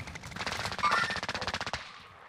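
Rapid machine-gun fire in an online shooter video game, a dense rattling burst of shots lasting about two seconds, fairly faint and alone.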